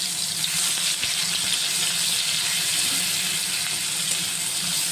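Onion paste fries in a pan, a soft, even, close sizzle, almost watery in texture, holding steady throughout with a couple of faint clicks and no talking.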